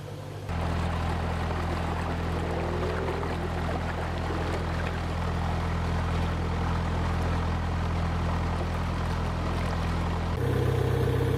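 A narrowboat engine chugs steadily along a canal through Stoke-on-Trent, with a constant close, low mechanical drone and a faint wash of water throughout.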